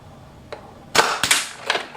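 A Buzzbee Range Master toy blaster shoots a dart at a target, giving a faint click and then a sharp, close pop, followed by a few quick clattering impacts and rattles.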